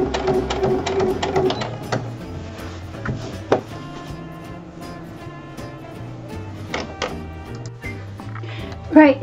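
A sewing machine stitches fabric down, its rhythmic mechanical chatter loud and close, with a few clicks and handling knocks and a brief squeak at the end.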